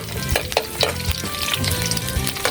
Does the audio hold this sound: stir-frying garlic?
yes